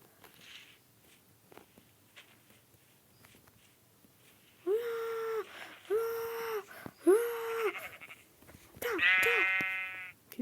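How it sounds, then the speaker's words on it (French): Sheep in the video game Minecraft bleat three times in a steady row, each call loud and drawn out, then a higher, strained bleat follows after quiet footsteps and faint background sounds. "Allez, venez là, mouton de malheur."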